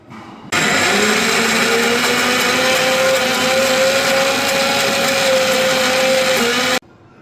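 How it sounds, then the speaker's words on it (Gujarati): A mixer grinder whirs loudly and steadily as it grinds moong dal and garlic without water, starting abruptly after a short quiet lead-in, holding a constant high motor whine for about six seconds, then cutting off. "એટલે બધું એકસાથે મિક્સર જારમાં પીસાઈ જશે."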